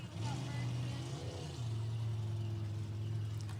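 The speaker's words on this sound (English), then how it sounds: "The boats are so loud, hard to hear them through." Loud racing boat engines at a professional drag boat elimination race, a steady droning roar with a pitch shift partway through, heard close and continuous.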